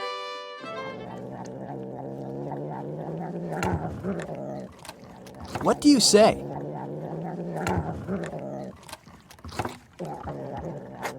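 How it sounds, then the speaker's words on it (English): A low, rumbling cat purr runs steadily throughout, with a voice briefly speaking in the middle. "it's the sound of a purring cat."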